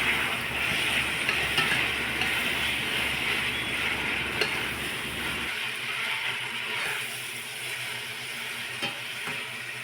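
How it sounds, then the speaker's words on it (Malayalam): Chopped onion, ginger, green chilli and crushed garlic sizzle steadily in hot oil in a pan, a broad continuous frying hiss with faint stirring scrapes; a low background rumble drops away partway through. "എണ്ണ ഒഴിച്ച് ചൂടായതിന് ശേഷം ഇതിലേക്ക് ചെറുതായി വെട്ടിവെച്ച വലിയ ഉള്ളി, ഇഞ്ചി പച്ചമുളക് വെളുത്തുള്ളി ചതച്ചത് ചേർത്ത് കൊടുക്കുക"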